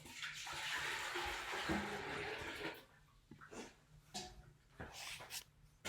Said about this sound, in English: Then we're going to pour it back in the little pot.